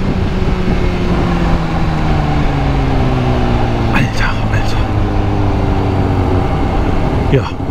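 Kawasaki Ninja H2 supercharged motorcycle engine droning loud and steady close by, its pitch sliding slowly through gear changes with a supercharger whine on top, wind rush throughout and no talk.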